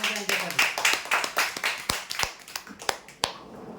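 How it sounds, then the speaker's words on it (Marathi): Scattered hand claps at a prize draw for winners in Chandrapur, about a dozen sharp separate claps rather than a dense roar, fairly close and thinning out toward the end. "जोरदार टाळ्या"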